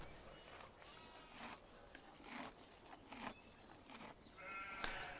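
Several sheep bleat intermittently at moderate volume in the video game Farming Simulator 15, the calls spread out over a few seconds with light background noise.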